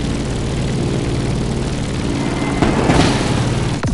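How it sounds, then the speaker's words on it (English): A propeller aircraft drones loudly and steadily while descending toward Honolulu in The Crew Motorfest, a heavy low engine hum filling the whole stretch with a slight surge near the end. "Let's start our descent and get ready for the landing."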